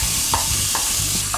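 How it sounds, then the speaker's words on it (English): Bacon strips searing and frying in hot cooking oil for refried beans, giving a steady, dense sizzle and crackle with a few brief stirring scrapes and no talk. "Now we're gonna go ahead and sear off and fry up our bacon."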